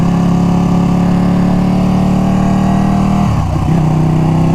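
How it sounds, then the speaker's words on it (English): A Ducati motorcycle runs on its stock exhaust, a loud, steady, close engine drone that dips briefly near the end before settling back. "How is the stock exhaust so loud?"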